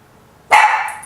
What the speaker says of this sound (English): That's how you get your dog to speak.